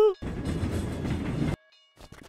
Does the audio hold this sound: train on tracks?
yes